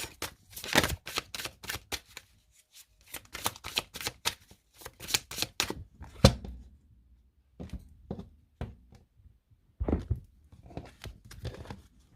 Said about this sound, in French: On va poser 4 cartes et on va recouvrir des 77.